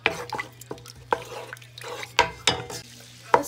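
Repeated stirring and scraping of a utensil in a pan over a soft sizzle of garlic frying in olive oil, with sharp clinks every second or so, close and moderately loud.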